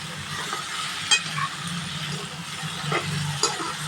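Ridge gourd and tomato frying in oil over medium heat, a steady close sizzle with occasional spatula scrapes and light clinks throughout, no voices.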